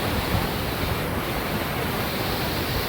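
River water rushes at Sinnakallar falls in Valparai, a dense, steady roar of fast-flowing water that fills everything evenly with no pauses.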